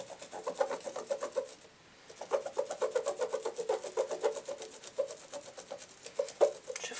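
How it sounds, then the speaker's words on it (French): A Sigma makeup cleaning glove scrubbed with shampoo, giving a fast rhythmic wet rubbing and rasping that repeats steadily, pausing briefly once, close and quiet with no voices. "Je frotte."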